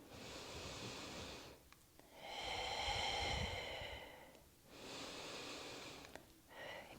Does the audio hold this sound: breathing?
yes